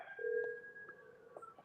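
Telephone ringback tone during a call-in podcast, a steady electronic two-tone hum held for over a second, moderately loud and clear with no talk over it.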